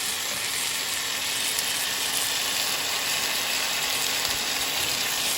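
Mutton sautéed (kosha) in a pan, a continuous close sizzle with faint scraping and clicking from stirring, steady throughout and no talking.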